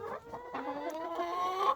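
Roosters cluck in a steady, close stream of harmonic calls that build and grow louder toward the end, with no talking.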